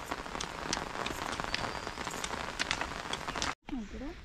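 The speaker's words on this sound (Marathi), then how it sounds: "पाऊस लागायला सुरुवात झाली." Rain begins falling on a village farm field at sowing time for finger millet, a dense steady patter of drops with scattered closer splashes, cutting off briefly near the end before a faint voice-like murmur returns.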